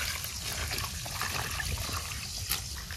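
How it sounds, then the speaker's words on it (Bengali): Water poured over vegetables in a home kitchen, a continuous close splashing, gushing stream with a trickling edge, steady and fairly loud throughout, no talking. "সবজির উপরে জল ঢেলে দিই।"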